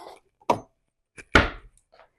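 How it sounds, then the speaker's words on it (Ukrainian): Chicken liver and potato filling being chopped with a hand utensil, two sharp separate knocks with a few softer taps between, close and dry. "ось цим прибором таким чином подрібнюємо начинку"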